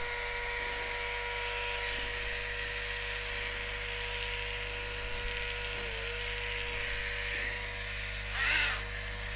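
A Beurer MP 60 manicure drill hums continuously while running, a steady close-up electric whine with a faint tonal buzz and a small swell near the end.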